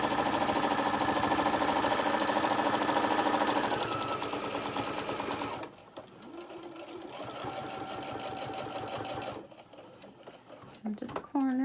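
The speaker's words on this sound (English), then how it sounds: "Sew it across." A sewing machine stitches across a small tote bag with pockets, its fast, even mechanical whir loud and close for several seconds before it slows and quiets, and a voice briefly speaks near the end.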